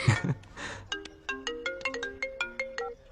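A mobile phone ringtone plays a bright, repeating melody of short electronic notes in a quick, regular pattern after a brief muffled rustle, fairly quiet and with no talk.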